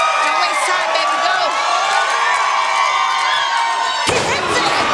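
A dense crowd roar fills a pro wrestling TV match arena (NWA Powerrr, Mike Knox bout), loud and continuous from start to finish with cheering swells and a sudden shift in texture near the end.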